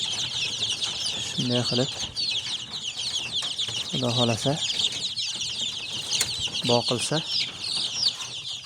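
Chicks being raised at home cheep constantly in a high, busy chorus nearby, with a few brief flutters of wings, while someone talks intermittently over them.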